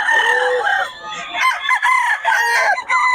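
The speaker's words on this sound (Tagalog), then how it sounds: "Hoy, quality mga manok ni Boss Gaga" Chickens and a rooster on a farm, with loud, close crowing calls repeating back to back across the whole stretch, mixed with clucking and no talk.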